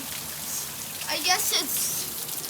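Heavy rain falls outside an open door in a steady, dense hiss of drops, while a person speaks briefly over it partway through.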